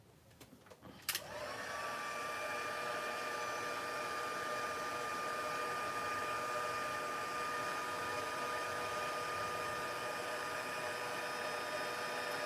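After a couple of quick clicks, a heat embossing tool switches on and runs with a steady whirring blow and a thin whine, heating stamped embossing powder on a Happy Halloween card, continuous and close, alone.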